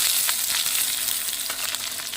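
Cinnamon and bay leaves fry in hot oil in a kadai, a loud, bright, continuous sizzle with crackling pops scattered throughout, close up.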